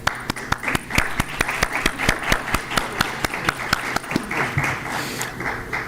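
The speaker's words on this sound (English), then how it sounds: "there's a huge applause from everyone watching online" Applause at a Board of Education meeting, a few people clapping in a regular, fairly close rhythm, steady for several seconds before thinning out near the end.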